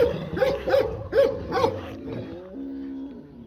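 Kangal dogs howling: several short, tonal, wavering howls in quick succession, then a lower, longer drawn-out howl that fades, fairly close and loud.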